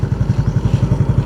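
Motorcycle ridden along a beach, its engine running in a steady, rapid low throb with even pulses, fairly close and loud, with no talking.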